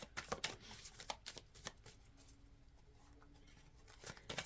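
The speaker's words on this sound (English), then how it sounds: "I feel like I'm just enjoying the act of shuffling today." Tarot cards being shuffled by hand in a series of soft, papery riffles and taps, louder bursts at the start and end with a quieter stretch in between.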